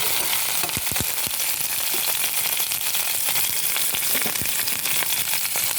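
Ivy gourd stir-fry with shallots, garlic and curry leaves sizzles steadily in a pan, with scattered spoon scrapes and knocks rising over the constant frying hiss.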